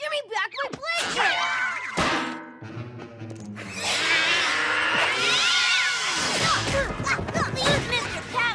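Cartoon cat yowling and caterwauling in a chaotic scuffle, with shrill drawn-out cries, crashes and excited character voices shouting over the noise, loud and busy.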